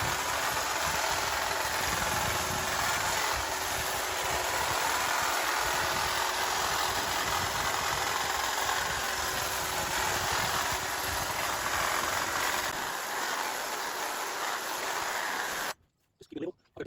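A hedge trimmer cutting a big overgrown hedge behind a deck, its motor running as a loud, continuous droning buzz close by for most of the stretch before cutting off abruptly near the end.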